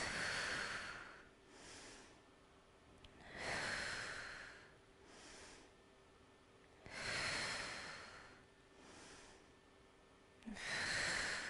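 Slow, deep yogic breaths during a hip-opening flow, long audible inhales and exhales through the nose repeating every few seconds, close and soft with no talk.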